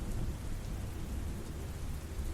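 A thunderstorm sound effect from a Bengali horror audio story: heavy, steady downpour hisses densely with a low rumble of thunder underneath, continuous and close, with no voices.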